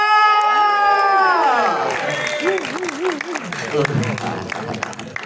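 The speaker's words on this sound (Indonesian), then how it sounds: "Tepuk tangan untuk Mas Anggi Umbara" A press conference audience at Epicentrum claps and cheers for Anggi Umbara, writer, director and producer of the film Gundik. A sliding, tonal sound opens the moment, then a busy crowd roar of applause and shouts follows, with voices throughout.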